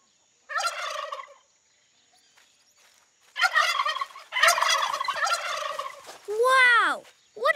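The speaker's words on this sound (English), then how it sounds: "Aye, 'tis a turkey, Sammy." A turkey gobbles several times in loud, rapid warbling bursts, separated by short quiet gaps, close by and without talk.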